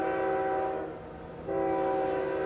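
A CSX freight train horn sounds loud and steady in two long blasts with a short dip between them, with no talk.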